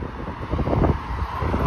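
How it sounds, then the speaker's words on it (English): Wind gusts roar across the microphone outdoors on a walk along Victoria Park Avenue in East York, a loud low rumble swelling briefly midway, with no talking. "Whoa, it's a little windy today."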